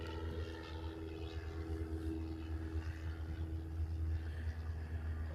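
A Qantas Airbus A380 jet bound for Los Angeles passes over Honolulu, a steady, loud low roar that holds without break throughout, with no voices over it.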